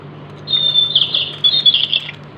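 Little cartoon birds squawking and chirping in a thin, high, rapid chatter that comes in short bursts, fairly loud and alone over a faint low hum.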